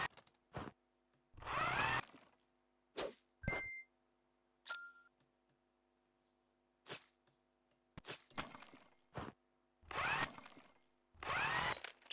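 In the House Builder video game, screws are driven into a timber frame as a series of short power-drill bursts, some a second or so long, separated by quiet gaps, with a couple of brief electronic beeps between them.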